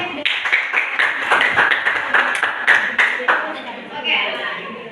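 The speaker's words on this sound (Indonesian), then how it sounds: "tepuk tangan di belakangnya." A classroom of students claps in a quick, rhythmic patter of sharp hand strikes, close and fairly loud, with voices mixed in throughout.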